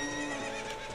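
A horse neighs in the video game Zelda Ocarina of Time, a bright, whinnying call with a few clip-clop hoof sounds mixed in, loud and close over steady game background music.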